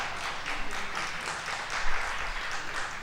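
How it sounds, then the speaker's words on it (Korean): A congregation applauds during a Sunday Eucharist service in a church, with steady, moderately distant clapping that carries on throughout without a break. "박수."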